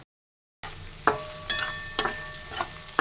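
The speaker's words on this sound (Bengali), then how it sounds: "চলো ভেন্ডিটা ভেজে নিই" Okra (bhindi) frying in a pan gives a steady sizzle, broken by about five sharp metallic scrapes of a spatula stirring at a regular pace, close by, after a brief silence.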